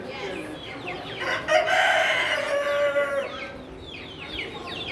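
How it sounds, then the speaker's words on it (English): A rooster at a small-animal auction crows loudly and close, one long drawn-out call rising over steady clucking from surrounding chickens. "They're a rooster."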